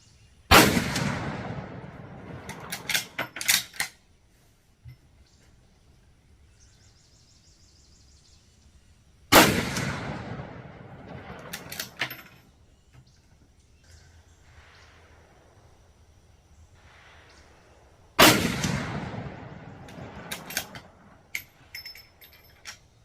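Three loud .450 Bushmaster rifle shots fired at a 500-yard target, evenly spaced several seconds apart, each a sharp blast followed by a rolling echo and faint clinks fading into near silence.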